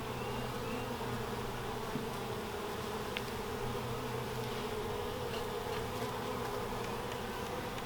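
A new colony of honey bees hums in a steady, dense, continuous drone during an early hive inspection, close and even throughout, with no talk.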